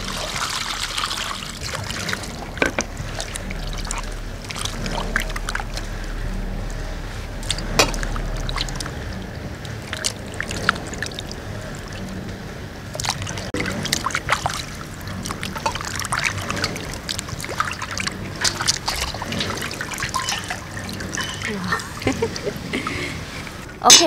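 Beef intestine being washed by hand under running water, a steady trickle and splash with wet squelching and handling noises throughout, close and continuous.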